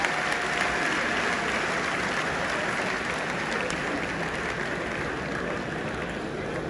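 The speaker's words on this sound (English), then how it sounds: "Another round of applause." A large conference audience at a Nigerian Bar Association gathering in Enugu State applauds in a loud, continuous wash of clapping that stays even from start to finish, with no voices standing out.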